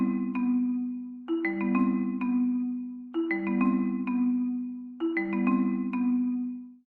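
Marimba part from a piece of music, a short repeating phrase of mellow struck wooden bar notes, played four times in a steady rhythm, clear and close, no voices.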